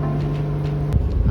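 A sailboat motors out of its marina slip near Oxnard, a steady low engine drone close by that shifts into a rougher, busier rumble partway through.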